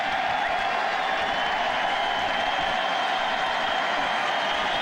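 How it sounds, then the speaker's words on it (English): Purdue football fans in a packed stadium at Notre Dame raise a steady, broad cheer that holds loud and even for the full stretch, a continuous wash of crowd noise with no single voice standing out. "a cheer from the Purdue faithful as the clock continues to tick down"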